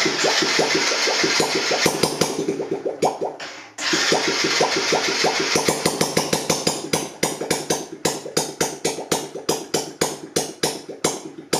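A 1982 Honda C70 Passport motorcycle's small engine cranking over and over in a steady rhythm, one short pause partway, then firing into a sputtering, uneven run, loud and close with no talk.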